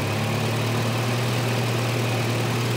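A Volvo 240 engine idles with the idle air control valve unplugged, a steady, loud low hum with a continuous rumble close to the listener, no voices.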